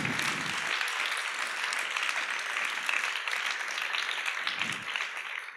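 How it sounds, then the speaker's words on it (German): A church congregation applauds in praise during a bilingual service, a steady dense wash of many hands clapping that fills the whole stretch at even strength. "Gib Gott einen Applaus."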